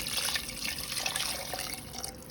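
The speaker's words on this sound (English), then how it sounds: "we're going to add another 2 cups of hot water." Hot water pours steadily into a pot or bowl, a continuous splashing rush close by, with no talking.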